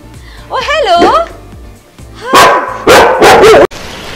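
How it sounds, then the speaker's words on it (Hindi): A dog barks and yips loudly at close range in a home, a whining, rising bark followed by a burst of several sharp barks, while people talk nearby. "अरे कौन भौंक रहा है ये बदतमीज?"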